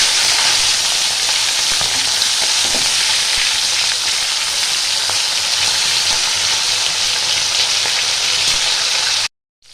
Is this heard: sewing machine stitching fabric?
no